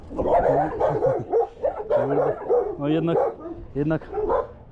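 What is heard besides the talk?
dogs barking in the street, Lima, Peru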